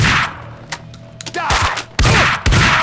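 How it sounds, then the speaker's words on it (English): A sawn-off shotgun fires in Max Payne 2, giving sharp, punchy blasts that land in quick succession over faint game ambience and a few small clicks. "Finally, we got a shotty. Sawn off shotty."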